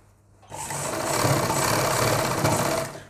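Sewing machine stitching a seam on fabric for men's underwear, starting abruptly after a brief quiet moment and then running in a steady, rapid close whir for a few seconds before easing off, with no talking.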